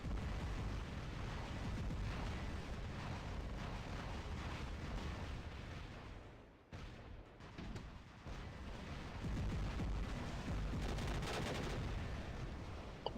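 Hydra missiles pound a robot in the War Robots game, a dense, continuous roar of explosions and blasts that dips briefly midway before resuming at full loudness.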